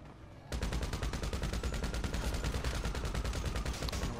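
Rapid automatic gunfire from Grand Theft Auto V starts suddenly and rattles on continuously for several seconds, loud and dense, with no talking over it.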